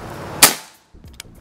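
A single sharp shot from a PCP air rifle, the Ghost Warrior 360cc, cracks close and loud, then decays quickly into brief quiet and a faint metallic click.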